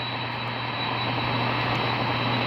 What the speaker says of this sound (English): Hopefully the engines aren't too loud.